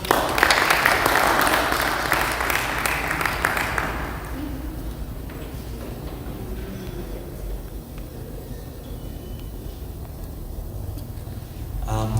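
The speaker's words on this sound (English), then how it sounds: "welcome Dr. Pavan Singh Chana with a warm round of applause" Warm audience applause at a health awareness program in a Ramgarhia Gurudwara Sahib, welcoming a speaker, loud and dense for the first few seconds, then fading into a quieter room with scattered sounds before a voice begins.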